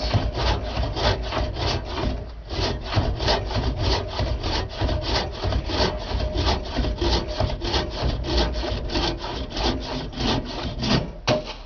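An antique hand saw, a cheap flea-market find, cuts through wood in steady back-and-forth strokes, loud and close, with a brief pause near the start and another near the end, and no talking.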